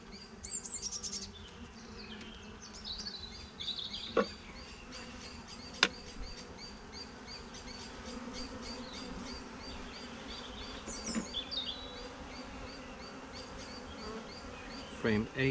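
Honey bees buzzing steadily around an open beehive during an inspection, a dense continuous hum close by with occasional louder individual bees passing near, plus faint handling noises.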